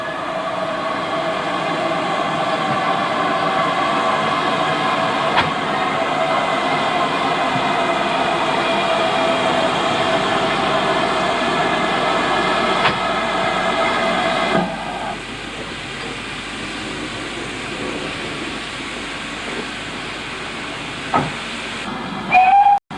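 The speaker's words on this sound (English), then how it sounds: "After taking water, 4277 runs back to join the coaching stock standing in the platform" Steam locomotive 4277 on the North Yorkshire Moors Railway holds a long, loud whistle blast over a steady hiss of steam, then the whistle stops and the hiss carries on lower, with a few metallic clanks near the end.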